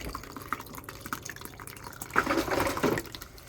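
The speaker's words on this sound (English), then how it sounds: "Filling up with water there." An RV plumbing line fills with water, giving a steady trickle with drips that swells into a louder gurgling rush near the end, with no voices.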